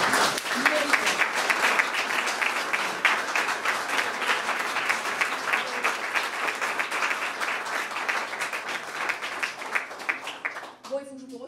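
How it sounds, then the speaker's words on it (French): Sustained audience applause at a heritage prize ceremony, many hands clapping in a steady, fairly even roar for about ten seconds before it cuts off and a voice begins speaking. "on peut vraiment les applaudir"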